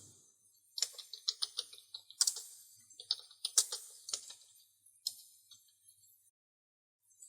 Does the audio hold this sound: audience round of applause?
no